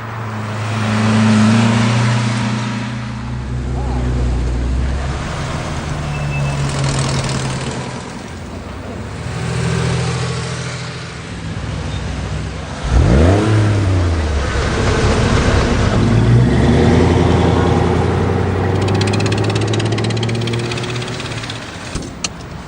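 Engines of cars gathered at a Cars and Coffee meet in Irvine, Los Angeles area, rumble and rev in a parking lot, with one vehicle roaring up loudly midway amid broad outdoor engine noise and crowd murmur.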